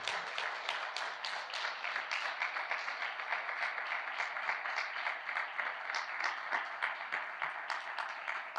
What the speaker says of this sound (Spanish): Bien fuerte ese aplauso.